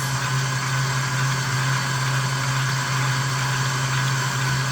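An electric hand mixer motor runs on high speed, whipping honey butter in a bowl, giving a steady, close, even whine with a strong low hum and no change in pace throughout, with no talking.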